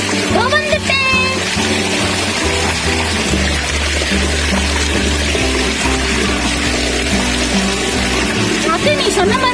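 Steady rushing water from a pump set pours down heavily and continuously, loud and close, with a faint voice near the start and end.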